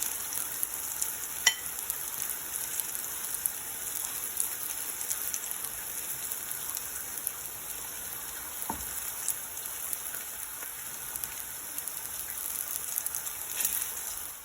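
Plantains frying to golden brown in hot oil, a dense, even crackling sizzle like steady rain, close and continuous for the whole stretch with a few sharper pops and clicks.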